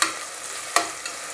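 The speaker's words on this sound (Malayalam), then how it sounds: "സവാള നല്ലോണം ഒന്ന് വറുത്ത് കോരിയെടുക്കാം." Sliced onions sizzle steadily in hot oil inside a pressure cooker, with a couple of sharp scraping stirs as they are turned while they fry golden for a biryani; close and continuous, with no talking.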